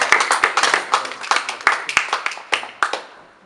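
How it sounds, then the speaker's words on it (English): Audience clapping for a performer at a Scots and IsiXhosa cultural event, with close, crisp hand claps in a brisk uneven rhythm that slow and fade out toward the end. "give him a clap"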